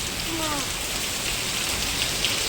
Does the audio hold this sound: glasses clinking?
no